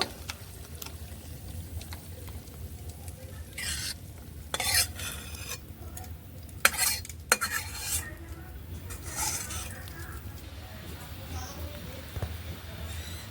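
Cooked vegetarian taro curry is scooped from a pan, a spoon scraping and clinking against the metal in irregular strokes over a faint background sizzle.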